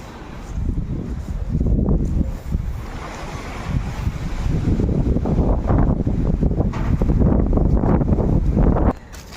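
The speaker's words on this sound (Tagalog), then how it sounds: "lakas ng hangin" Strong wind at an orange orchard roars steadily and buffets the microphone for several seconds, loud and continuous, with no voices.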